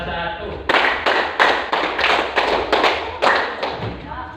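A class claps together in a repeated counting rhythm, with around nine sharp, evenly spaced group claps ringing out loudly, close by, and in clear sequence.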